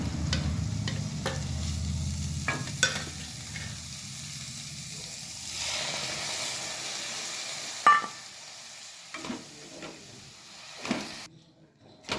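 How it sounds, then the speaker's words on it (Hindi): Mawa roasting in a pan over a low flame with a soft sizzle and continuous stirring, followed by a few sharper scrapes and clacks of the spatula as the sound thins out, heard close but fairly quiet. "मावा को मैंने लो फ्लेम पर लगातार चलाते हुए सेक लिए।"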